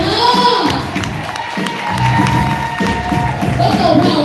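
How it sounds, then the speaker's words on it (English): Live audience cheering and clapping at a motivational speaking event, a dense, continuous crowd roar with whoops and shouts rising and falling, close and loud, with voices mixed in. "So y'all go ahead and clap it up."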